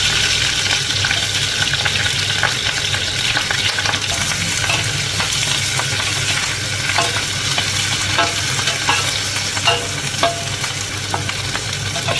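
Cabbage and mixed ingredients frying in a pan for a braised cabbage dish, a steady close sizzle with repeated scraping stir strokes throughout and no talking.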